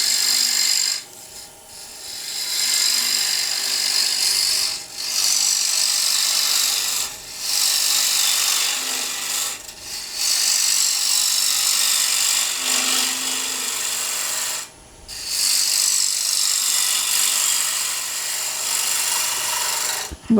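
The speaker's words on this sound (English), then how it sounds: "So now let's just stop the lathe." Gouge cutting a pin-striped wooden bowl spinning on a lathe, a steady close rasping scrape in long passes broken by several brief pauses.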